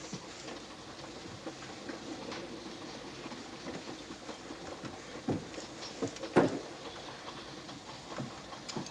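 Passenger train running on rails at a station, a steady broadband rumble with intermittent clanks and knocks, one sharper metallic bang near the end, no talking.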